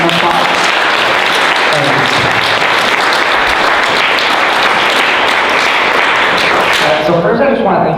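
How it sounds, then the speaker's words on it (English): An audience applauds speaker Sara Higdon at a women's network event, loud sustained clapping from a crowd that fades out near the end. "Let's give Sara a round of applause."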